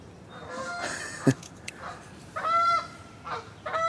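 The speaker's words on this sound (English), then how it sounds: "Oh, Mr. and Mrs. Goose are out there saying hi." Geese honk outdoors in a few distinct nasal calls, with a short burst and then a longer run of honks at moderate distance, with no speech.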